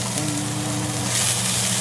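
Diced onion fries in leftover oil in a pan while cooking green chilaquiles, producing a brief, steady, close hiss of sizzling that grows slightly brighter toward the end, with no voices.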